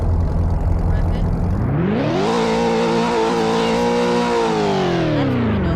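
A video game car engine starts low, then revs up sharply into a sustained high-pitched whine that holds and slowly eases off. It is loud and continuous, with a voice briefly audible near the start.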